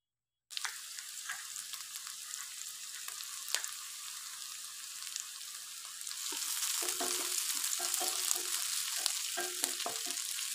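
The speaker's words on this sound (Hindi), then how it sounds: "प्याज साथ उसको भी हम फ्राई करेंगे।" Onion and kasuri methi frying in a pan for a dhaba-style fish curry, a continuous hissing sizzle that starts abruptly, with intermittent spatula scrapes growing busier in the second half.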